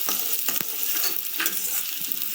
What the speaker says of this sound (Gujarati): તો આપણે આમાં ઝીણું સમારેલું લસણ એડ કરી દીધું છે 2 ચમચી જેટલું